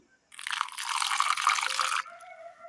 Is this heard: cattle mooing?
no